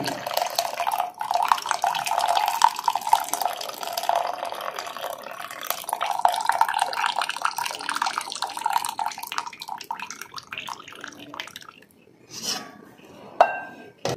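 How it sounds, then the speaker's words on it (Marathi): Hot water poured off boiled vermicelli, a steady splashing stream running for about eleven seconds before tapering off, followed by a couple of brief clinks and splashes. "हे शेवाईमधलं गरम पाणी सगळं काढायचं आहे"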